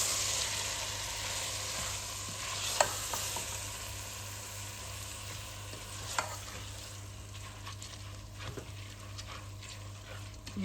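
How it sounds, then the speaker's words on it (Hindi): Mash daal with spices stirred and fried in a pan over raised heat, a steady close sizzle with occasional scrapes of the spoon against the pan, no talk. "चूल्हे को करते हैं थोड़ा सा ऊंचा और इसको अच्छी तरह भून लेते हैं।"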